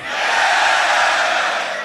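A live crowd at a Grand Beatbox Battle loopstation semi-final roars and shouts in reply, a sustained, loud wall of cheering voices lasting a couple of seconds.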